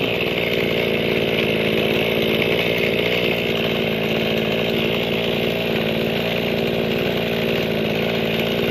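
An old, well-used Mikino 768A two-stroke pesticide sprayer engine with worn bushings runs steadily throughout, a loud, close, buzzing drone at constant revs with no pauses.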